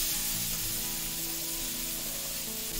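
Spices such as mustard seeds, turmeric and chilli frying in hot normal cooking oil, a dense, continuous close sizzle with steady loudness and no talk.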